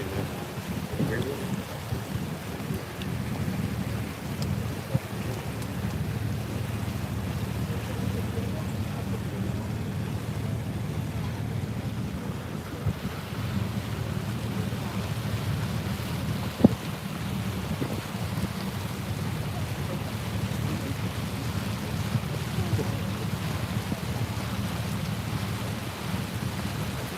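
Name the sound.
rain falling on a boat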